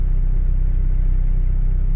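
A car engine idles at a red light, a steady, loud, close low rumble with an even pulsing drone and no other sounds over it.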